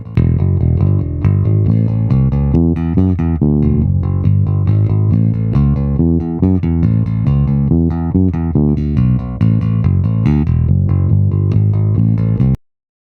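Bass guitar with its tone knob rolled down to imitate flatwound strings, playing a steady, loud run of notes for about twelve seconds, full and continuous with a dark, rounded low end, then stopping abruptly.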